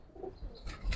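A female Giribaz pigeon gives a brief soft coo while being handled in a loft, followed by a few sharp rustles or wing flutters near the end.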